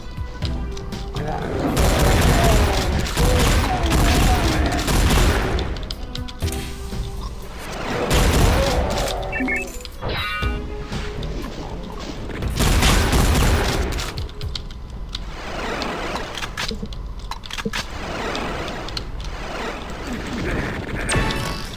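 TNT rockets from the Final Doomer mod for Doom blast in loud, booming bursts with crashing debris, several explosions in quick clusters separated by brief lulls, with a voice talking in places.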